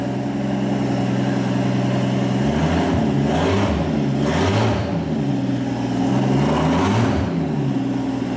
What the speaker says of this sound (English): I gotta start this thing up with open turbos